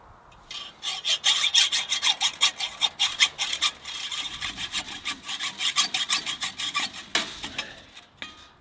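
Scrubbing on a part from a 1959 Case generator: fast, rhythmic rasping strokes, close and fairly loud, repeating steadily for several seconds with a short pause near the middle and no talking.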